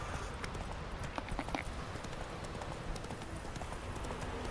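Horse hooves galloping in The Witcher 3: Wild Hunt, a fast steady clip-clop rhythm over a dense game soundscape, even and continuous at moderate level.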